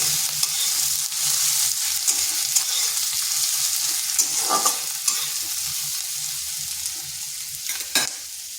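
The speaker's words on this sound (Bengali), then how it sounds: "এগুলোকে হালকা একটু ভেজে নিচ্ছি যাতে তার কাঁচা গন্ধটা চলে যায়।" Crushed garlic cloves fry lightly in hot oil, giving a steady soft sizzle throughout with a few brief stirring scrapes and clinks near the end, close and alone.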